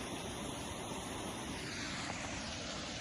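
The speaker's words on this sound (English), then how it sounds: "See all the water running through?" Water rushing steadily through an old tunnel near a country road, a continuous broadband roar filling the space with no voices or breaks.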